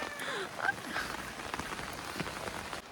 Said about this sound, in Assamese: বৰষুণ বতৰ